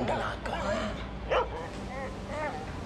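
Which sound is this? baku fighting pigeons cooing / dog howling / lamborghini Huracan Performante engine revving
dog howling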